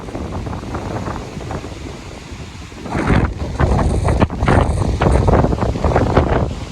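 Strong wind roars and buffets a microphone outdoors, a rushing gusty noise that swells louder and rougher partway through and stays heavy to the end.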